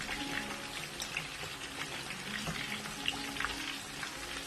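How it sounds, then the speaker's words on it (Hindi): Rohu fish pieces and green chilies deep frying in hot oil give a steady, close crackling sizzle with scattered pops and bubbling throughout, no voices. "ग्रीन चिली भी फ्राई कर रही हूँ"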